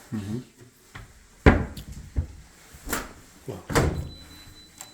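Brand-new kitchen cabinet doors and drawers open and shut in a series of sharp wooden knocks and thuds, several distinct bumps spread across a few seconds, fairly close in a quiet room.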